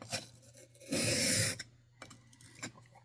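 A Mora 106 knife draws once across a sharpening stone in a loud, bright scraping stroke of about half a second, framed by a few quieter clicks and light scuffs.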